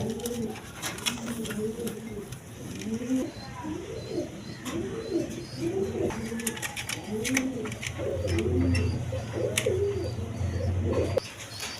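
House pigeons, including tiger and Andalusian colour varieties, cooing in a steady series of close, repeated throaty calls, with faint chirps and a low background hum.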